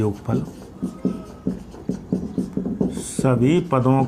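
Chalk or a marker taps and scratches on a board in short rhythmic strokes while a math problem is worked out, with someone speaking over it near the end.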